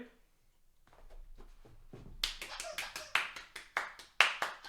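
Several sharp hand claps ring out close by in a quick, uneven burst, rising louder after a stretch of quieter soft tapping and handling noise.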